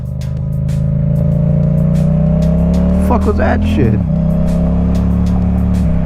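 A steady Yamaha MT-07 motorcycle engine drone as a car swooshes past the bike very close midway through, and a man exclaims sharply right after.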